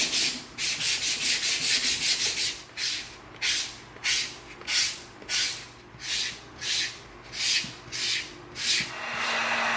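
Rhythmic back-and-forth strokes of 220 grit sandpaper on EVA foam for a tomahawk prop, about a dozen evenly spaced scrubbing passes, close and fairly loud, alone without voices.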